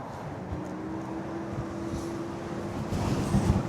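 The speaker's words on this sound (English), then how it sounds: "this wind has really picked up a lot" Strong wind gusting steadily across the microphone outdoors among restaurants while riding an electric scooter, a constant loud rush that builds slightly toward the end with no talk.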